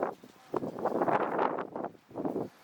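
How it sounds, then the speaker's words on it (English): Strong gusty wind on a snowy day, gusts up to 50 mph, buffeting the microphone in rough, roaring surges that rise and fall, with no one talking. "It's very windy."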